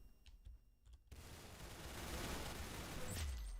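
AK rifle fire in the Roblox video game, quiet taps at first, then a dense, sustained burst of rapid gunshots that swells and holds near the end.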